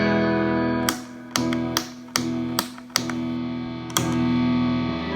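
Loud, sustained distorted electric guitar chords ringing through a Lovepedal Amp Eleven pedal into a 15-watt amp, struck repeatedly at irregular intervals with sharp attacks and long sustain.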